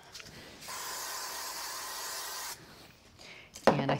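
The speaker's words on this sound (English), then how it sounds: "now I'm just going to use a little bit of spray glue" A soft, steady aerosol hiss lasts about two seconds, followed by quiet handling noises and a brief sharp click at the end.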